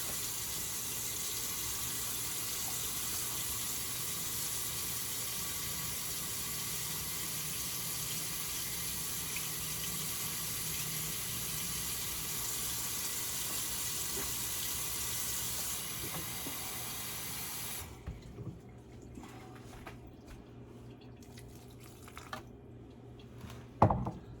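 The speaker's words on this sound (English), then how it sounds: "I'm going to get a touch of water." Water running steadily from a kitchen tap while baking peppermint cream cheese kolaches, a continuous close hiss lasting most of the clip before it cuts off into quieter kitchen handling noises and a couple of knocks.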